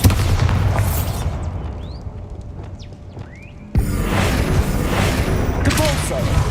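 A Bombarda spell blast in the Hogwarts Legacy video game lands as a sudden loud boom partway through, followed by a dense, rumbling roar of debris, after a stretch of quieter ambient game sound with swooshing tones.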